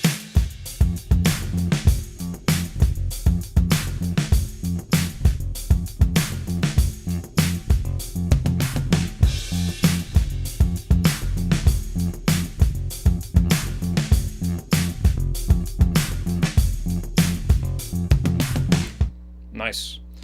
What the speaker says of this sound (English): We're gonna be adding both basses to the sound together.